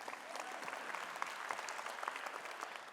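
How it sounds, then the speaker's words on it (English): Audience applause at a conference in Dallas, Texas: steady, dense clapping from a crowd that fills the room evenly for the whole stretch, with no voices on top. "you can clap for that."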